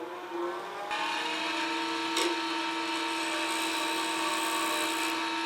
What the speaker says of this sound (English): show you guys how easily this negative rake works on resin